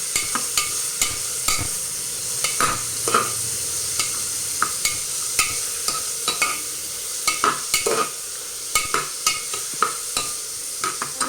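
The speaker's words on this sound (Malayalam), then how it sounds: "അരിഞ്ഞു വെച്ചിരിക്കുന്ന സവാള ഇട്ട് കൊടുക്കാം നന്നായിട്ടൊന്ന് ഇളക്കി ഇത് നന്നായിട്ടൊന്ന് ഇളക്കി കൊടുക്കാം" Chopped onions being stirred in a frying pan for a potato and capsicum masala, with a steady sizzle and repeated sharp scrapes and clicks of the spoon against the pan, close and alone.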